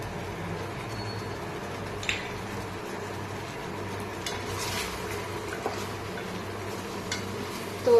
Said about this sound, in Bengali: এবার এইটা আমি কিন্তু এই গ্রেভিটার মধ্যে অ্যাড করে দেবো, ভালো করে মিশিয়ে নেবো।